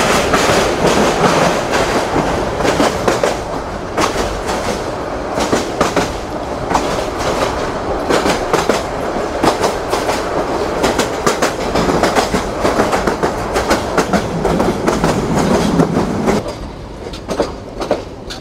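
Mohanganj Express rolling past Moshakhali railway station, a steady loud rumble with continuous clickety-clack of wheels on rail joints, heard from close by and lasting throughout.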